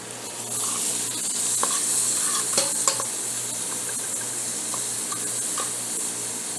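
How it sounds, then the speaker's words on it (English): Onions frying in a pan for a garlic Hawaiian roll appetizer give a steady, close sizzle with bright crackle throughout, a few louder pops and spatters rising near the middle, no voices. "let's take a look at our onions that should be caramelization-ing."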